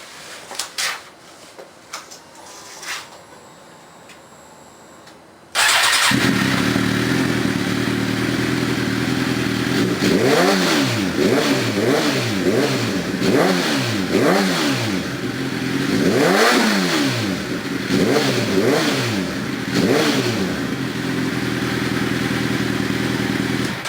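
A 2008 Suzuki GSXR 750 sport bike with an M4 GP slip-on exhaust, hot from a ride, fires up and settles to a loud idle, then gets a series of sharp throttle blips, each rising and falling in quick succession.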